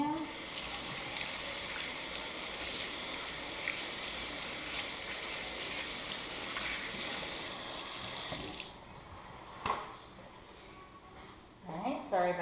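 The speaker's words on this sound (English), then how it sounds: "I'm going to wash my hands." Kitchen tap water gushing steadily into a sink during handwashing, a continuous close hiss that cuts off partway through, followed by faint clatter and quiet handling sounds.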